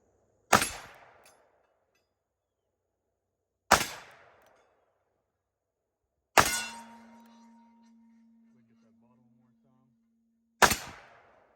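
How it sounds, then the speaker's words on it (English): Four sharp, loud gunshots from a Magnum Research BFR .44 Magnum revolver firing Hornady 240 grain XTP rounds, spaced a few seconds apart outdoors, each blast decaying quickly, with a faint ringing tone after one shot. "That was 5 rounds of Hornady Custom, 44 Magnum, 240 grain XTP."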